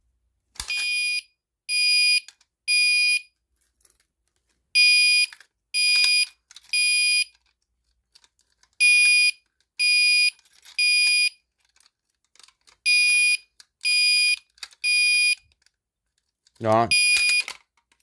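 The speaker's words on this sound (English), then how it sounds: "if you pull down the pull station, it will activate the alarm" A Simplex fire alarm triggered by a break-glass pull station sounds in loud repeating bursts, three sharp electronic tones per group with pauses between, and a brief spoken word near the end.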